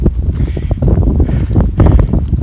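Low, gusty wind buffets the microphone in steady rumbling bursts, with faint rustling mixed in, on a hiking trail.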